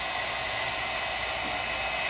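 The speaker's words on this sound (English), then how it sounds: "Using the heat gun obviously contours the material to the lens" A heat gun blows hot air onto amber tint film on a 2015-2017 Ford Focus headlight lens, a constant close airy hiss with no talk.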